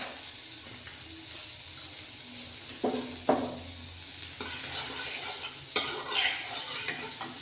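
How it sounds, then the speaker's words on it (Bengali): Butter heating in a pan with a soft, quiet sizzle, broken by a few sharp clinks and scrapes of utensils against the cookware. "তার মধ্যে বাটারটা আমি গরম করতে দিয়েছি"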